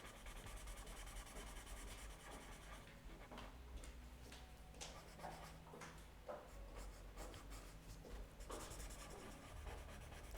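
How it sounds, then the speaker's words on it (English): A blending stump with no powder rubs over graphite pencil on paper, a soft steady scratchy swishing in close strokes that come and go in bursts, with no talking. "I'm just taking a blending stump,"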